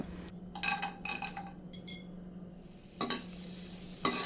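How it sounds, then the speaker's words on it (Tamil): Cashews and raisins fry in hot ghee, giving a quiet sizzle under clinks and scrapes of a spoon stirring in the pan, in a few short bursts. "நெய் சூடானதுக்கப்புறமா ஒரு கைப்பிடி அளவுக்கு முந்திரி பருப்பு கொஞ்சமாக உலர் திராட்சை சேர்த்துக்கோங்க"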